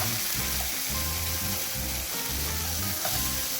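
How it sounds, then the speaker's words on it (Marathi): Ginger, garlic, onion, tomato and coriander paste sizzles in hot tempering oil in a kadai, a loud, continuous close frying hiss with rhythmic bubbling pulses and no talk. "ही पेस्ट आपल्याला आता या कढईमधल्या फोडणीच्या तेलात टाकायची आहे"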